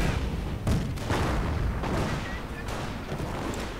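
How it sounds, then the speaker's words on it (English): Anti-tank guns fire in a World War II video game battle with Panther and Sherman tanks, heavy booming shots landing in a dense, continuous roar of gunfire and explosions. "Anti-tank guns firing"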